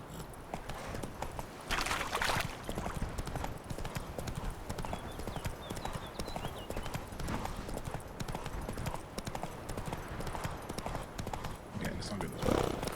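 Rapid rhythmic hoofbeats of the horse Roach galloping in the video game The Witcher 3, steady throughout with game ambience, while a person talks over it.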